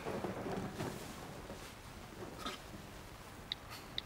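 Faint, distant thunder from a storm rumbles low and broad, strongest at the start and then fading into a quiet, hissing background with a few soft knocks.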